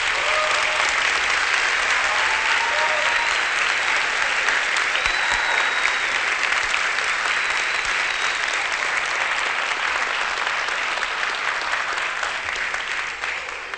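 Sustained applause from an audience for a team at a children's musical show, steady and dense throughout with no talk over it.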